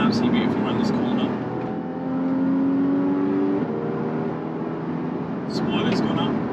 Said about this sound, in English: Just listen to that engine note.